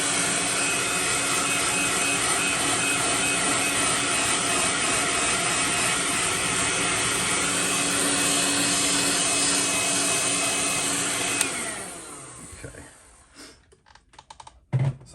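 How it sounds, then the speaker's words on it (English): A heat gun roars with a steady, loud blowing whine while heat-setting colorshift paint on a custom swimbait lure, then winds down after about eleven seconds, followed by scattered handling clicks. "Let me just heat set it real fast just to make sure we don't have any wet spots."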